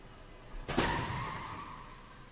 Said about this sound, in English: The Jeep Grand Cherokee, I still don't want to be that driver in this T-bone crash